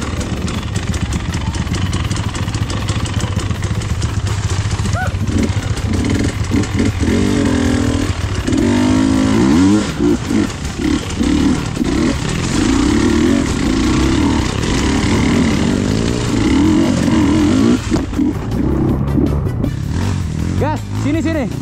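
An off-road motorcycle engine revs hard and continuously on a dirt trail at Jonggol, loud and close with buzzing rises and falls, while people shout over it.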